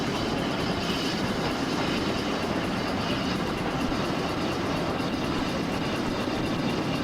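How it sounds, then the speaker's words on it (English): A steam train runs along a 1950s Riviera Line route in Train Simulator, giving a continuous loud rolling rumble with rail clatter throughout. "I'm driving a steam train"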